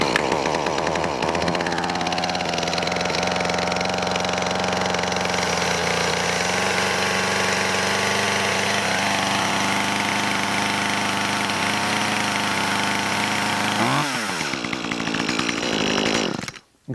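A gas chainsaw taken off choke idles steadily and loudly up close for most of the stretch, its engine tone wavering slightly, then dips with a brief sputter before cutting out at the end.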